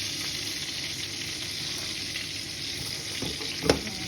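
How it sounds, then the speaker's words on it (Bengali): Oil heats in a cooking pot with a steady, even sizzle that runs throughout, close and moderately loud, and a single sharp clink comes near the end. "এখন আমি এখানে একটা পাতিল বসাই দিলাম, পাতিলের তেল দিয়ে দিচ্ছি।"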